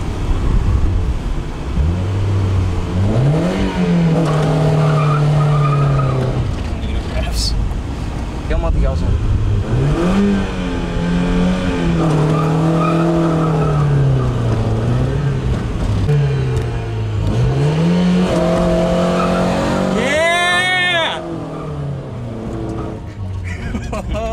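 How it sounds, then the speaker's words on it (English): A Mazda Miata doing a burnout, its engine revving loud and close in long sustained rises and falls, with tire squeal building near the end and a voice talking over it. "So this guy's learning burnouts for the first time. That was his first burnout."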